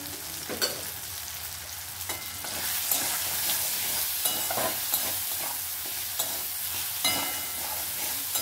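Fish stirred with salt and turmeric in a frying pan: a continuous loud sizzle with repeated scraping and knocking strokes of the spatula, growing busier partway through, close by and with no voices.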